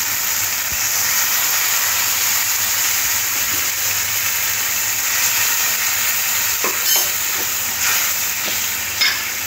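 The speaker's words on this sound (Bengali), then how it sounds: "আদা আর হলুদটা দেওয়ার সাথে সাথে ডালটা দিয়ে দেব।" Masoor dal with ginger and turmeric cooking in a pan, giving a steady, fairly loud sizzle with stirring and scraping throughout and a few sharper clinks near the end.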